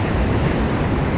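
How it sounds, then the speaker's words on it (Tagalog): Big ocean waves break on a Philippine shore during shore casting, a loud, rough, continuous roar of surf with wind buffeting the microphone. "Malaki na alon."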